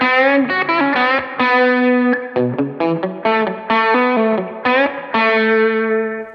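A distorted electric guitar plays a quick pentatonic lick of rapid single notes with slides and bends, loud and upfront, with no talking.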